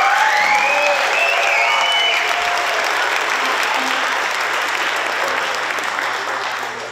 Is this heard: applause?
yes